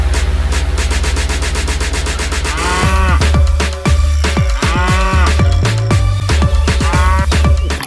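A cow moos repeatedly, loud and near, with long rising and falling calls following one another with short gaps, over a steady background hum.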